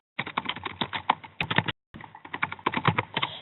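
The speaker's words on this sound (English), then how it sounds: "I click text box and I type in something like" Rapid typing on a computer keyboard, close and fairly loud, a steady run of clicking keystrokes with one short pause partway through and no talking.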